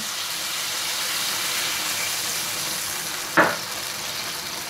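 Chicken sizzles steadily in a hot pan, then a splash of water and wine hits the pan with a sudden loud hissing burst that quickly settles back into a softer simmer.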